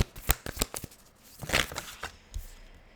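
Animal oracle cards being shuffled close up in quiet, quick papery riffles and flicks, arriving in a few short bursts.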